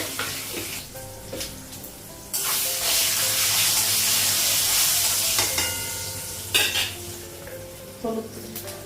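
Panch phoron, dried red chillies and cardamom crackle in hot oil in a home kitchen pan while chana dal cooks, with steady sizzling and frying, metal scraping and clinking of utensils, and bursts of stirring.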